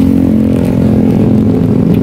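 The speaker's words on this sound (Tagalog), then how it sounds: "ayun po yung motor ni Melka" A motorcycle engine running close by, loud and steady with a low rumbling idle and a rough throbbing tone that continues throughout with no talk.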